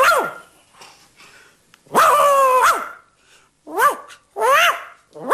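A dog barks in a series of loud, close, high yelping barks, one long drawn-out bark followed by several shorter ones with brief pauses between.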